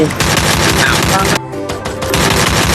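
Rapid automatic gunfire in the mobile battle-royale game Free Fire, loud and dense bursts with a brief lull midway before firing resumes, over game effects and music.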